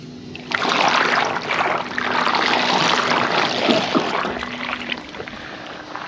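A WYBOT C1 robotic pool cleaner working along the pool's water line, giving a continuous close splashing and churning water wash with a faint steady motor tone underneath, no talking.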